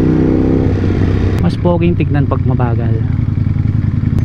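A Ducati Panigale V4S with a 1,103cc engine riding slowly, a loud steady low engine rumble running throughout while someone talks over it partway through.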